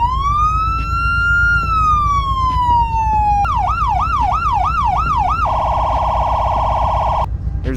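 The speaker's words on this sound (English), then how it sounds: "Here are sirens." Police car sirens in the Roblox Greenville game cycle through modes: a long rising-and-falling wail, then a rapid yelp, then a steady high tone, all loud and close over a low engine hum.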